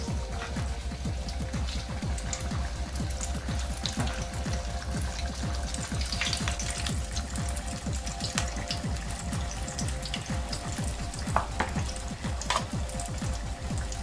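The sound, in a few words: frying spring roll wrappers in hot oil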